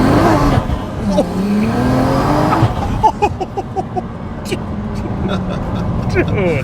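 A BMW with an N54 turbo engine accelerating hard, a loud close engine roar rising in pitch through the gears with rapid fluttering pulses, while someone talks over it.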